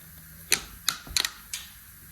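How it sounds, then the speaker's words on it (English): Sharp plastic clicks come from a primer spray cup locking onto a gun during bodywork on a 1979 Volare wagon door: four or five crisp snaps close up, one a quick double click, over a quiet background. "You got to make sure you hear all 4 clicks."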